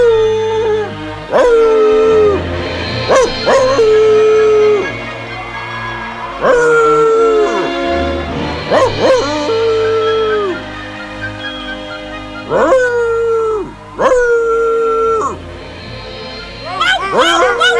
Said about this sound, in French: En aboyant ensemble, on devrait pouvoir dominer le bruit de la tempête.